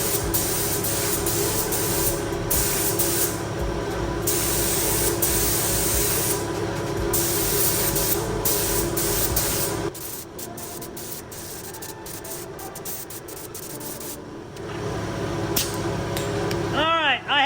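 An electric paint gun sprays a final coat of paint in a loud, continuous, close hiss for about ten seconds, then cuts off, leaving quieter room noise and clatter before a brief resumption near the end.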